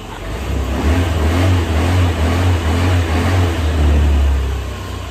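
Honda Metropolitan scooter engine, freshly cleaned carburetor, revving from idle in two smooth swells of a low buzzing drone, close and loud, settling back toward idle.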